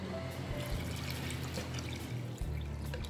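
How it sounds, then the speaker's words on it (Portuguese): About a litre of hot water is poured over raw chicken breast in a pot, a steady close splashing and trickling stream that runs without pause from start to finish. "agora aqui eu vou colocar 1 litro de água para cobrir todo o peito de frango"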